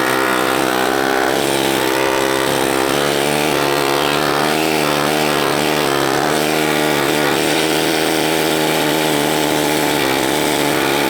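A loud, continuous pneumatic air hammer removing underseal from a Datsun 280Z, harsh and rattling, close by and unbroken throughout, with no voices.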